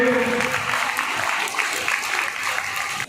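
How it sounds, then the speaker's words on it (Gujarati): Audience applause for a committee at a Jain community oath-taking ceremony, steady dense clapping throughout, loud and close, fading at the end. "જોરદાર તાળી આખી કમિટી માટે"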